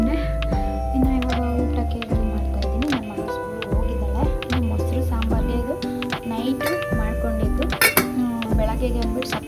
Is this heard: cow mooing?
no